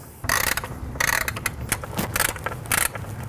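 A ratchet removes bolts from the driver's side timing belt cover of an Audi engine, giving quick bursts of close, sharp clicking with short pauses in between.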